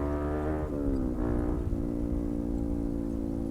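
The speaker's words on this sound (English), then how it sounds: "my exhaust is probably really loud" A loud motorcycle with an aftermarket exhaust drones and revs nearby on Medellin streets, its deep throaty exhaust note shifting pitch briefly before settling into a steady rumble.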